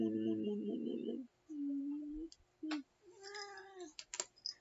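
A cat meows several times in short, tonal calls, close and fairly loud, with a person speaking softly in between.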